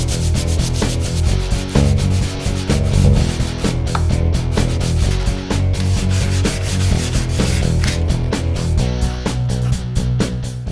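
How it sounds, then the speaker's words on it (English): Steady, continuous rubbing and scraping of sanding on wood, close and fairly loud, with no talking. "Sanding is such sweet sorrow."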